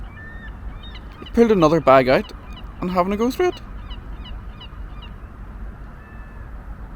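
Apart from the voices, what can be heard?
fat bird pulling rubbish out of a bin at a harbour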